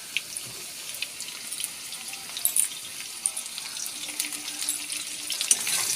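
Potatoes and chopped onions fry in a pan, a steady, crackling sizzle with scattered sharp pops that grows busier toward the end, without talk.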